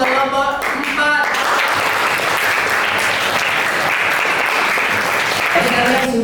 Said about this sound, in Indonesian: kita beri apresiasi atau tepuk tangan untuk kelompok 4